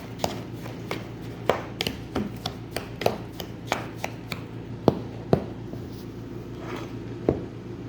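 A semolina, milk and baking powder batter is stirred and mixed in a bowl, giving irregular soft taps and scrapes against the side, close up and fairly quiet, with no voices.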